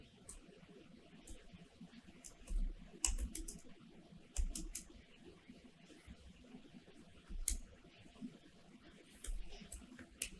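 Short bursts of typing on a computer keyboard while writing JavaScript code, faint clicking keystrokes in a few clusters with gaps between them, no voice.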